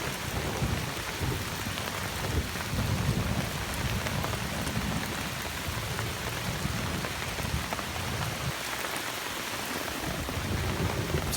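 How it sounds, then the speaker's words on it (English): Heavy rain drums steadily on surfaces around a wild hammock camp during a thunderstorm, with thunder rumbling low under the constant loud hiss of the downpour. "It's brightening up, but it's still massive cracks of thunder and lightning."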